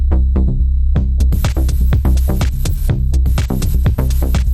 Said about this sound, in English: Let's put some drums behind that.